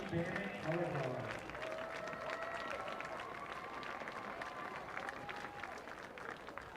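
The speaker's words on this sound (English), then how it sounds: "Let's have one more round of applause for the Arcadia Apache marching band and color guard." A stadium crowd at a high school football game applauds the Arcadia Apache marching band and color guard, faint and distant clapping blended with crowd noise and a voice over the speakers.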